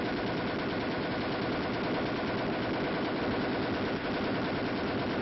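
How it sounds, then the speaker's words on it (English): An M73 7.62 mm air-cooled, recoil-operated machine gun fires on full automatic in one continuous dense roar, steady and loud throughout with no pauses. "The M73 machine gun is a lightweight, air-cooled weapon"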